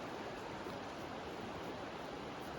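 A wilderness river along the trail through Maine's 100-mile wilderness rushes and flows, a steady broadband wash of water that stays even and fairly soft throughout, no voices.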